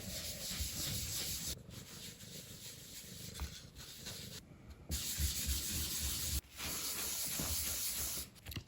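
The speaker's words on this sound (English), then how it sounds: "now I'm gonna wax these pieces of wood, which be the fitting on the inside of the lights. Gonna use the dark wax." Dark wax is rubbed onto small wooden lamp-fitting pieces with steady, close, continuous rasping strokes, broken by short pauses between passes, with no talking.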